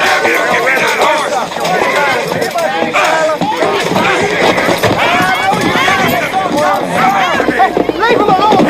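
A horse clip-clops along at a run, its hooves drumming steadily under loud, heated shouting between men, with crowd noise mixed in throughout.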